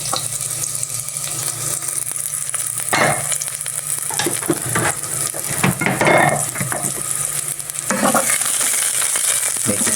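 Garlic sizzles steadily in a hot pan while a utensil stirs it, scraping and clattering against the metal in irregular bursts; loud and close with no talking.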